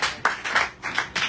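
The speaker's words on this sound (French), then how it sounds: "Applaudissez quand même." A congregation at a church service claps briefly, four or five quick close hand claps in an uneven rhythm, with no talk over them.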